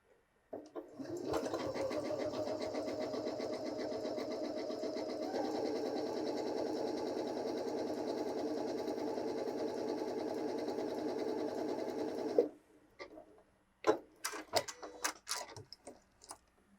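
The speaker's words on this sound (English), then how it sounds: "Stitch a couple inches of this and I'll be quiet." A Janome 6700P sewing machine stitches a 3-step zigzag in one continuous run of rapid mechanical ticking and motor hum lasting about eleven seconds. It stops abruptly, leaving scattered clicks and handling noises afterward.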